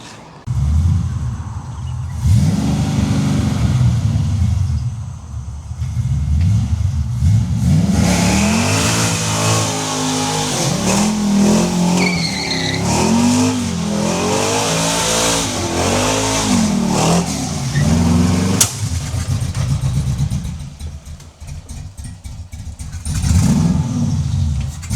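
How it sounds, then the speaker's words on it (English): A car in a New Zealand Summer Nats build does a burnout skid, its engine revving hard and loud for a sustained stretch, with rising and falling revs and a harsh, noisy roar of spinning tyres. "I'll leave you with a little skid."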